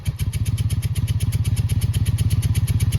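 A Honda Magna VF700 motorcycle engine idles nearby without choke while warming up, a fast, steady thumping putter, each pulse evenly spaced and loud throughout.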